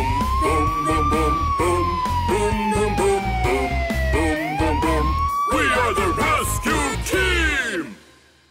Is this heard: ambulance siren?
yes